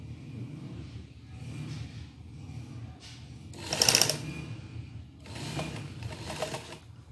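A sewing machine stitching fabric for a Patiala salwar runs in short bursts, with a sharper, louder run near the middle and quiet pauses between, fairly close and soft.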